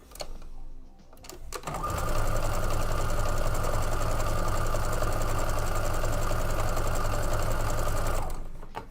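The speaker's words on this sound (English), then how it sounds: "I'm just going to go ahead and sew one up." Sewing machine stitching fabric pieces together in a quilting workshop: steady, fast mechanical whirring and rattling for about six seconds, loud and close, starting after a brief pause and stopping at the end.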